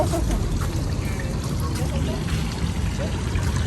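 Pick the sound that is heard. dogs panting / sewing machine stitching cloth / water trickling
water trickling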